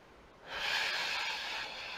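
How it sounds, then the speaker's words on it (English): A single long, close, breathy exhale-like rush of air during a hip stretch, rising abruptly and holding steady for over a second. "I'm going to breathe in and out"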